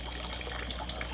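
Water from a crayfish pond's runoff trickles and drips steadily, a faint, continuous light splashing with a few brighter drops, heard close and alone.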